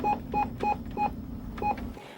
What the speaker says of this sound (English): What I'm doing now is I'm sending the Amber Alert fax to the 2 radio stations that are tasked to receive it.